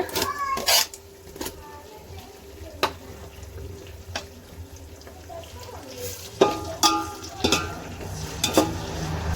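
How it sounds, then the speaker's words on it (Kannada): Chopped onions sizzle in a pan for hotel-style chicken biryani, with a spoon scraping and clinking against the metal in sharp, irregular strikes over a steady frying hiss. "ಇನ್ನೊಂದು ಸ್ವಲ್ಪ ಈರುಳ್ಳಿ ಫ್ರೈ ಮಾಡ್ಕೊಳ್ಳೋಣ"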